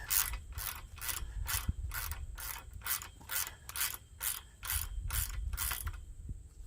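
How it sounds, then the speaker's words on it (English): A ratchet wrench snugging nuts on a metal hoop house frame gives about a dozen even, rhythmic clicking strokes, close and fairly quiet, with no talking. "I'm tightening them down snug, but I'm not super tightening them"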